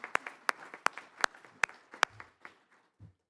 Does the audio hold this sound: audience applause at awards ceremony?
yes